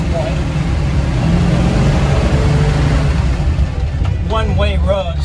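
A 1946 Ford Woodie driving in low gear on a one-way road, a steady, loud engine rumble and road noise. A tonal whine rises near the end.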